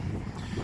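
Light outdoor wind on a sunny day, a steady soft rush and buffeting across the microphone with no voices, a continuous broadband blow at moderate level.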